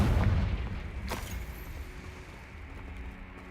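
A Confringo blasting spell detonates in Hogwarts Legacy, a loud low boom at the start with a sharp crack near one second, then a rumbling tail that slowly fades.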